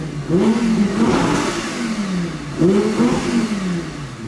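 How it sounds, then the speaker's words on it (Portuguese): An Audi R8 engine in sport mode revs up twice, each rise a loud, close, deep growl that swells and falls off, with no talking over it. "Agora ativando o modo esporte, galera, ó. O ronco já vai mudar, tá ligado?"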